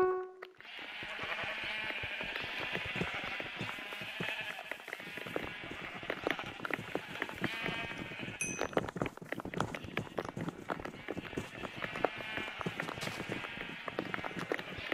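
Sheep bleat repeatedly in a Minecraft-style minigame, short cries scattered over a dense bed of game sounds, clattering steps and quick clicks, moderately loud and continuous throughout.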